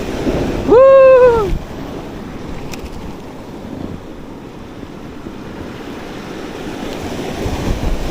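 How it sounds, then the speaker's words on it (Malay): Ocean waves wash against rocks at a rocky shoreline fishing spot, a continuous loud surf rush with wind buffeting the microphone and a brief high-pitched call near the start. "Ombak lagi."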